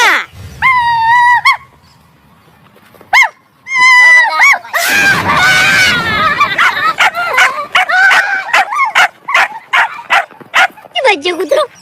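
Dogs bark loudly and close in repeated sharp bursts, mixed with high yelps and whimpering cries. A brief lull falls near the start before the barking turns dense and continuous.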